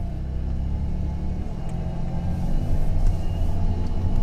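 Steady low engine rumble and road noise from inside a 1997 Camaro being driven on the road, swelling slightly as the car pulls harder toward the end.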